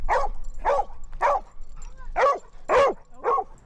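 A mixed lab barks six times in a loose rhythm, close and loud, each bark a sharp burst with slightly whiny edges.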